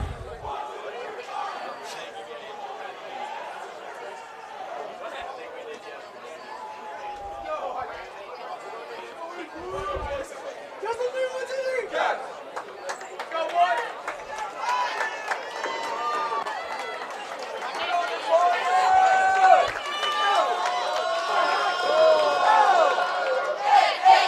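A crowd at a boys' OHSAA Division 2 Northwest District high school game shouts and chants together in a loud, rhythmic cheer, voices rising and growing more energetic toward the end.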